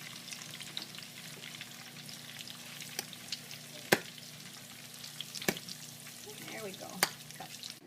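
Squid rings deep-frying toward a golden, crispy finish, a steady bed of bubbling oil crackle with a few sharp pops and clicks standing out, close and moderately quiet throughout.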